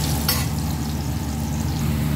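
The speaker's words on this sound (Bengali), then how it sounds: "আলু ভাজা চলছে" Potatoes frying in a pan give a steady, close sizzle with a low crackling bed, plus one brief scrape or stir near the start, and no one talks.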